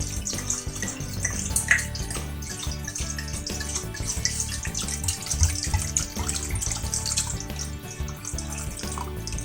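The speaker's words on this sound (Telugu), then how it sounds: "ఇప్పుడు మనం ఎక్కువ వాటర్ వేయాలి" Lots of water pours steadily into a pot holding bone broth bones, a continuous broadband splashing rush that stays fairly loud and unbroken throughout.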